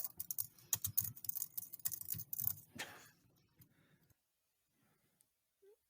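Rapid clacking of computer keys being typed for about three seconds, close and crisp, then stopping into near silence.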